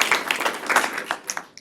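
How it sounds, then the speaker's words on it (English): A conference audience at a data science symposium applauds a speaker, a brief burst of many hands clapping at moderate volume that thins toward the end, with no talk over it. "So let's give him a round of applause."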